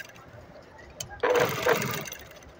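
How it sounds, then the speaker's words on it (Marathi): A sewing machine stitches along the edges of paper while a sleeve design is sewn. A brief click comes first, then a sudden burst of motor whir that runs steadily for more than a second and fades slightly toward the end. "आणि आता एकदम कडेकडेवरती आपल्याला शिलाई टाकून घ्यायची आहे."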